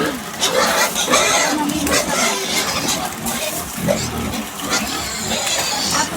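Grown pet pigs that are close to breeding age grunt and snuffle in their pen. The grunts sound close and loud against continuous rough background noise, and faint voices can be heard.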